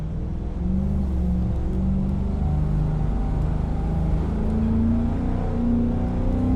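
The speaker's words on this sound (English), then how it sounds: "I feed in some throttle, the revs come up, and we just start going" A Spec P71 police sedan with a torque-converter automatic in Assetto Corsa revs and accelerates, a steady loud engine drone with rising tone as the revs climb through the gears, no talking.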